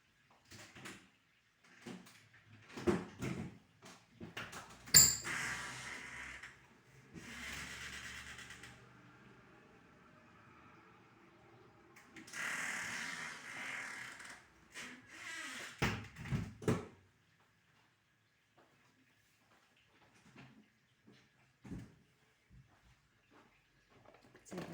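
A hand grinder is worked in short bursts of gritty, rasping grinding, close and fairly quiet, with pauses between strokes and a longer run in the middle before it trails off into near silence.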